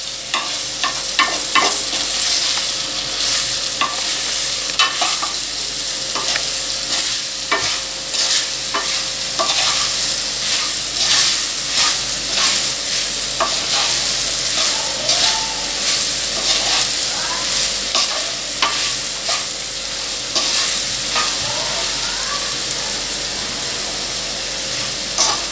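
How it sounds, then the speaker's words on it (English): Raw banana pieces coated in besan (gram flour) are stirred in a hot pan as they fry, with a constant close sizzle and hiss and repeated scraping and clinking of the spoon, steady for the whole stretch and with no voices. "stir it so that they should be equally covered with this besan"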